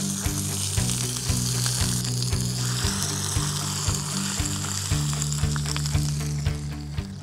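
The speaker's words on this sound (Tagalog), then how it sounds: "I'm just basically going to sear it." Chicken searing in a hot pan, a loud steady sizzle and crackle throughout with occasional stirring taps, over low background music.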